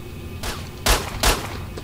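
Gunfire in the S.T.A.L.K.E.R. shooter: three sharp, separate shots spaced about 0.4 seconds apart over a quiet background, the last two louder and closer.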